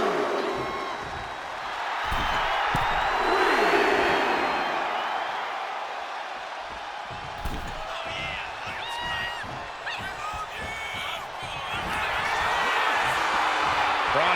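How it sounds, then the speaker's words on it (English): A crowd cheers and roars in a WWE 2K25 wrestling video game arena, a sustained wash of noise that swells and fades, with whoops over it and commentators talking throughout. "He wants his crowd on their feet. He wants them to make some noise."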